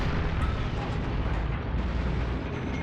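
Gunfire and explosions from a Heroes and Generals battle make a dense, continuous barrage of rumbling blasts and crackling shots that stays loud for the whole stretch without a pause.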